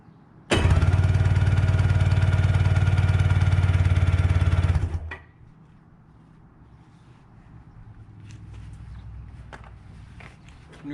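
A vintage jet ski engine catches after cranking and roars loudly and steadily for about four seconds, then cuts out abruptly, leaving quiet rustling and faint handling noises.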